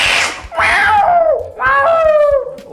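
A voice imitates fighting cats with harsh, wailing yowls, three rising and falling cries, loud and close with no other sound.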